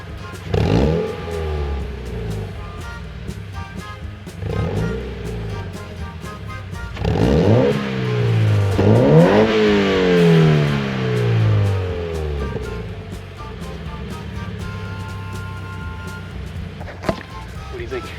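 A Toyota 86 is revved repeatedly through its muffler, the exhaust note climbing and falling in several sharp sweeps, loud and close, with idle rumble between the revs.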